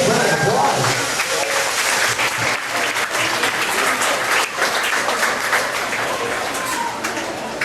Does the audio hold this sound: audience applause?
yes